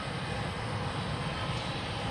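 A KLM Embraer E190-E2 jet sits near the runway entry point at Louisville airport, its engines giving a loud, steady roar and whine that holds without break, close by.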